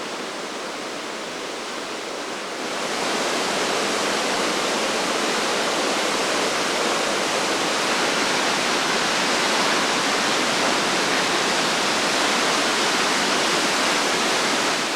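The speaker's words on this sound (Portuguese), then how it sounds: "O motivo principal é Nilpehär, a cachoeira mais alta da Suécia." Njupeskär, Sweden's highest waterfall, tumbles 93 metres down several cascades in a steady, loud roar that swells after a couple of seconds and then holds unbroken.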